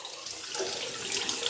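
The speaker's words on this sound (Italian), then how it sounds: "Come sempre io ci metto un po' di acqua calda e la lascio lì." Hot water runs into a shaving bowl, a steady, close splashing trickle of moderate loudness heard alone without any talk.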